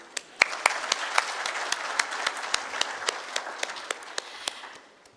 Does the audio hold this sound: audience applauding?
yes